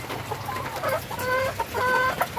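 Rooster and chickens clucking close by, short repeated clucks and calls in quick bursts over a soft background murmur.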